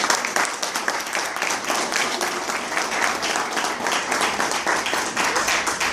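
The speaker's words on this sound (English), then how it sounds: "Can we just give her another round of applause?" An audience gives a dense, sustained round of applause for youth ambassador Taylor Ireland at an event in Houston, the clapping loud and continuous throughout.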